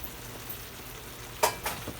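Tomatoes, green beans and homegrown sweet peppers stir-frying in a pan give a steady soft sizzle, broken near the end by a couple of sharp close scrapes or clatters, with no voices.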